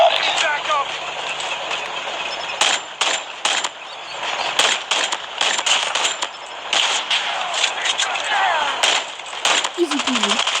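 Pistol shots crack in a fast-paced shooter video game, sharp bursts scattered irregularly over a busy, loud game soundscape with a voice talking across it.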